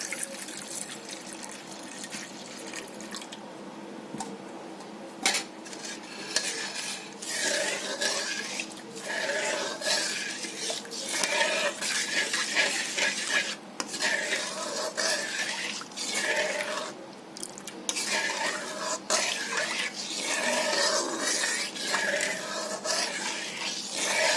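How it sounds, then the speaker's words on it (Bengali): Milk poured into caramel in a kadai and stirred, giving a continuous bubbling, liquid rush that rises and falls in waves with irregular clatter, close and fairly loud, and no one talking. "ধরো দুধটা আমি কড়াইয়ের মধ্যে এই ক্যারামেলে আমি দিয়ে দেবো"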